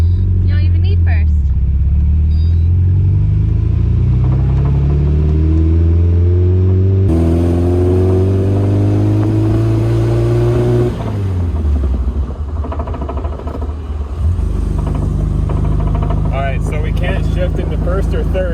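An MGB left sitting for ten years, driven in second gear, its engine droning loud and close with rising and falling pitch as it accelerates and eases off; speech is tagged but no words are transcribed.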